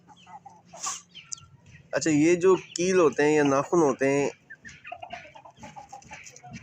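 A chicken clucks in a burst of loud, close calls, while someone talks before and after them.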